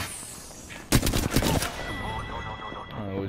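Rapid burst of automatic gunfire in a video game shooter, loud and dense for under a second, followed by a few more scattered shots, then quieter game sounds with a faint voice.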